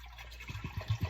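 Fairlife milk pours into an Instant Pot for yogurt making, heard as a short series of soft glugging splashes in an uneven rhythm, close and quiet, with no talk.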